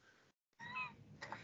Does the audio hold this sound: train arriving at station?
no